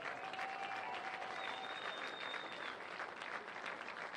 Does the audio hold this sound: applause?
yes